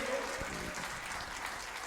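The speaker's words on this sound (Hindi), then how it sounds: "मैं जोरदार तालियां बजाइए।" Applause from an audience at a religious training camp gathering, a steady broadband clatter of clapping running throughout the short moment, with a voice faintly audible at the start.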